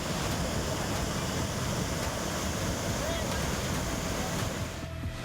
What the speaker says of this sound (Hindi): गुजरात के अमरेली में जाफराबाद में समुद्री तूफान देखा गया।